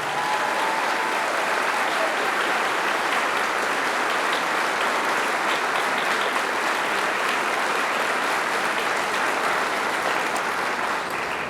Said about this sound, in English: Let's give another round of applause to our summa cum laude